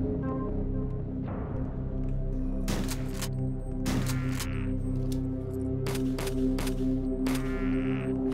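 Scattered gunshots from a machine gun in the retro shooter HROT, a few sharp bursts cracking over a steady droning music bed, fairly close and loud.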